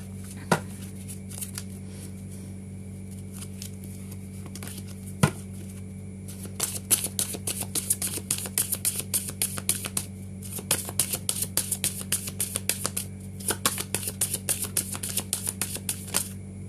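Oracle cards shuffled and drawn for a reading: quiet handling, then long runs of rapid, crisp riffling clicks, close and clear, with brief pauses between bursts.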